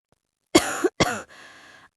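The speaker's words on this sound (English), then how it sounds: "I've got a terrible cough, and my throat is really sore." A person with a sore throat and a terrible cough gives two sharp, close coughs in quick succession, followed by a softer, breathy exhale trailing off in an otherwise quiet room.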